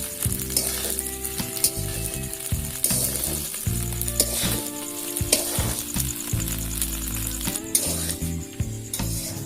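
Food coated with meat masala sizzles and fries in a pan while being stirred, a steady loud crackle with scraping stir strokes throughout, and no voices.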